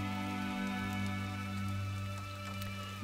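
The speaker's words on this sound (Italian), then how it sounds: "Poi tra l'altro ragazzi è iniziato anche a piovere." Soft, steady rain patters in the video game Gris, a faint hiss of drops beneath sustained tonal music.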